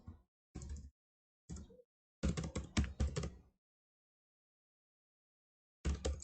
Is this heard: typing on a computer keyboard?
yes